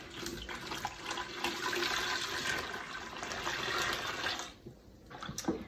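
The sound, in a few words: very warm water pouring into a bucket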